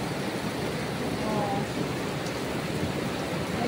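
Heavy rain pouring down in a steady dense hiss, loud and continuous, with no talk audible over it.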